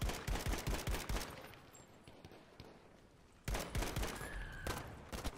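Rapid bursts of SML rifle fire in Battlefield 5, loud repeated shots in two clusters separated by a quieter lull, with no talking.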